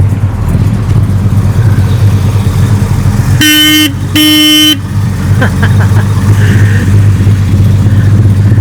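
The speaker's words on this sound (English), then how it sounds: "Let me get up here so we can hear this horn." Two loud honks from the horn of a 1969 Plymouth Road Runner, each about half a second, cut through a steady idling engine, with faint talk around them.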